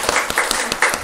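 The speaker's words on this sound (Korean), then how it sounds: "성가대를 통해 영광 받으시는 하나님과 우리 성가대를 위하여 박수 보내드리겠습니다." A church congregation applauds the choir, with close, steady, dense clapping that carries at an even level through the short moment.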